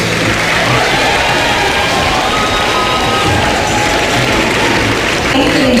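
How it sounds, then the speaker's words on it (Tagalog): At the PICC, a crowd at Grace Poe's proclamation as senator breaks into thunderous applause mixed with cheering and shouts, a dense, continuous roar throughout. "masigabong palakpakan at hiyawan ang narinig nang i-anunsyo ang pangalan ni Poe"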